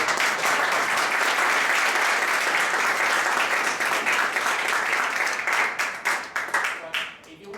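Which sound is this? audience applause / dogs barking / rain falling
audience applause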